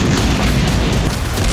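A loud, dense explosion boom used as a sound effect in a war news report fills the whole short span with a heavy low rumble and crackling roar, steady and unbroken with no speech over it.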